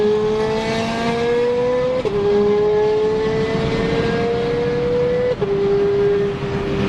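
Loud Ferrari F430 Scuderia V8 exhaust under acceleration, a steady climbing drone broken by two quick upshift drops, close and continuous with no voices.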